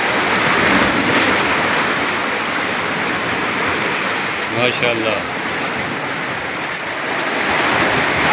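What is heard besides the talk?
fast-flowing sea water and waves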